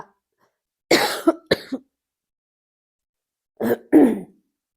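A person coughs from pungent chilli fumes while cooking: a close, harsh burst of several coughs, a pause of silence, then two more coughs.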